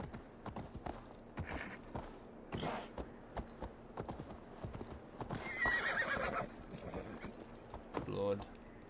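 Horse hooves clopping and a horse neighing in the Assassin's Creed Valhalla video game, with faint irregular hoofbeats, a whinny partway through and a creak near the end, all under quiet talk.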